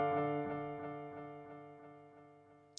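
A piano note repeated by a delay echo with high feedback, pulsing at a steady rhythm about three times a second and fading only slowly over nearly three seconds, played alone.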